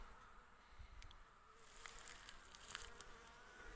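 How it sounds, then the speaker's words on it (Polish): Many honeybees buzz steadily close by at a rainwater drinking spot, a dense, continuous drone that swells slightly louder midway, with no voices. "Pszczoły na poidle."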